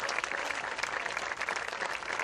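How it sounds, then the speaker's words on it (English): A stadium crowd at a high school graduation applauds the graduates who are entering military service. The clapping is dense and continuous, a strong and even roar of many hands that holds for the whole moment without any talk. "A round of applause for these young people as they have committed to service to our country"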